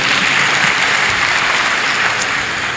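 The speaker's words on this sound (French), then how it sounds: "Sous vos applaudissements, s'il vous plaît." Sustained, loud audience applause fills a hall at a graduation ceremony for the 4th class of the health sciences faculty in Thiès, dense steady clapping with no pauses.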